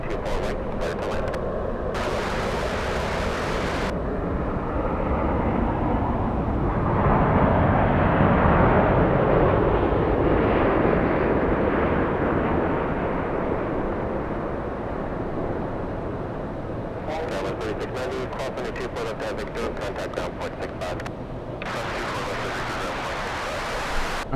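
United flight 38 from Haneda touching down at LAX, a broad roaring jet rush that swells to a peak and slowly fades, heard from a distance with bursts of crackling wind buffeting the microphone at the start and end.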